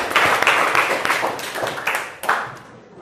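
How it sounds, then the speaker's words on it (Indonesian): A classroom of students gives a short round of applause, dense overlapping claps swelling and fading in bursts for about three seconds, close and fairly loud. "Oke, tepuk tangan dulu."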